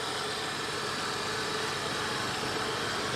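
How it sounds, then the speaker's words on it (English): A Ford AU's 4-litre inline six-cylinder engine idling steadily, a smooth continuous low rumble with a faint mechanical hum, no voices. "The good old 4-litre Intex 6-cylinder engine."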